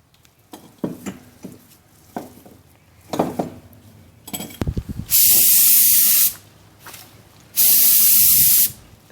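Paint sprayer spraying paint onto the fuselage of a 1/4 scale Piper Cub model plane, two loud sustained hissing bursts after clinks and handling of the canister.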